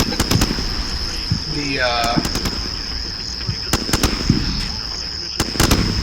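Gunfire in the video game Combat Mission: Shock Force, British module, comes as sharp, clustered cracks and bursts at the start and again near the end, with a steady high tone throughout and a brief voice in between.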